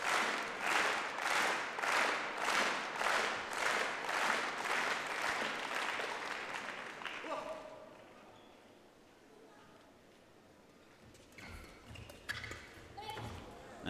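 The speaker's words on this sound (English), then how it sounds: "you can hear the crowd starting to get behind the Danes" A crowd at a French International badminton mixed doubles match applauds the Danish pair in rhythmic, steady clapping, then fades to quieter hall ambience with scattered shuttle hits. A commentator talks over it.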